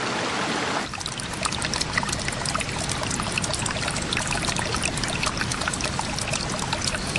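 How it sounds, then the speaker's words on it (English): A small river runs through a cave, fed by clean water springs: a steady, close trickling and gurgling wash that goes on without a break, loud and even, with no voices. "A little river runs within, fed by 14 clean water springs."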